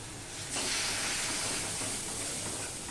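A splash of water hits a hot pan of spice paste made with cumin, turmeric and chili powder for a Bengali bele fish curry. A sudden hiss and sizzle starts, then holds steady with no voices.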